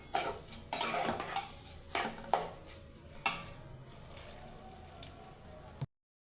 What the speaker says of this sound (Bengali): এখন এটা আমি ভালো করে ভেজে নিচ্ছি।